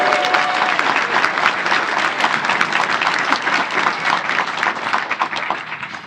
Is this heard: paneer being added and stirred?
no